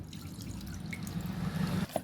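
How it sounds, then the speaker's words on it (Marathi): Water is poured off soaked sago, trickling and splashing steadily for about two seconds, a close, wet pouring sound with a brief clatter near the end. "आता त्यातलं पाणी ओतून घ्यायचं"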